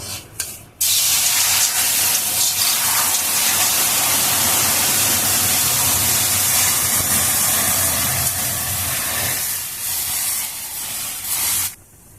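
Water poured into semolina fried red in a pan for sujir halua sets off a loud, steady sizzling hiss. It bursts in abruptly, stays strong for about ten seconds, then eases and cuts off, with no talking over it.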